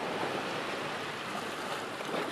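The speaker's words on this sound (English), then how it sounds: "The welcomed waves marking time in a place where time seems endless" Pacific Ocean waves at Tuvalu wash in a steady, broadband rush, a continuous surf roar with gentle swells and no talking.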